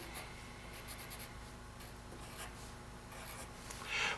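Pen or pencil writing figures on a paper plotting chart for compass deviation work, soft close scratching strokes in short bursts, with a brief louder rub near the end and no talk.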